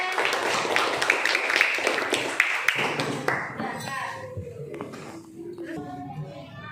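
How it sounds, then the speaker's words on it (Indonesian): Children clap for a classmate, Valen, in a classroom science lesson, a burst of scattered claps for the first three seconds that then gives way to quieter room sounds and voices. "tepuk tangan buat Valen"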